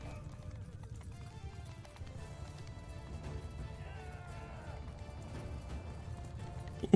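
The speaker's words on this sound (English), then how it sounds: "Ooh, a horse." Rhythmic clip-clop of horse hooves with a whinny partway through in the video game Mount & Blade II: Bannerlord, fairly faint, over a low background hum.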